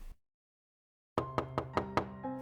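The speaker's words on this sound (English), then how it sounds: "Applejack knocked on the door of Golden Oak's library." Knocking on a library door: after a short silence, five sharp, evenly spaced knocks ring out close and clear, then a faint lingering tone.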